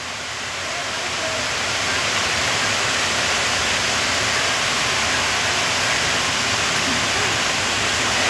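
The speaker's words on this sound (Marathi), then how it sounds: "बाहेर जोरदार पाऊस" Heavy rain pours outside, a loud, dense, unbroken roar that swells in over the first second and then holds steady throughout.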